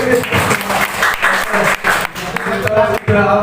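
Participants at a school positive-culture dissemination session clap in a loud burst of applause, mixed with talking and brief pauses in the clapping.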